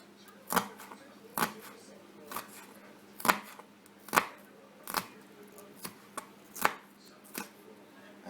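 A knife chopping a piece of onion on a cutting board, about a dozen sharp, close thuds at an uneven, unhurried pace, with no talk.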